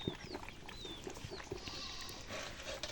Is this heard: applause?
no